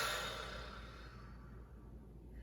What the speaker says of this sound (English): I invite you to take a few breaths out if you want